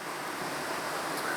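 The Watui Falls waterfall gives a steady, broad rushing roar that sounds soft and distant and carries on without a break.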